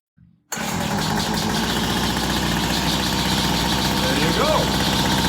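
A gas-powered weed eater, just repaired after a loose fuel line and filter, sputters briefly, then catches and runs at a loud, steady, buzzing idle close by.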